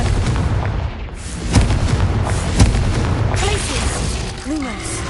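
A Confringo spell in Hogwarts Legacy bursts with loud booming explosions and crackling impacts amid dense game effects, with a voice speaking over it.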